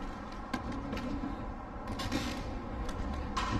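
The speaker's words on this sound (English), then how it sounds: "Hear my feet creaking and hear the echo a little bit in here." Footsteps creak across an old wooden floor under restoration in an echoing room, a run of soft creaks and thumps close by, with a few sharper cracks along the way.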